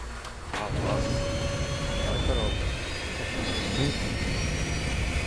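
Droning airplane engine in the Sniper Elite 4 video game, a loud sustained hum with a shifting whine that rises and falls, accompanied by game noise throughout.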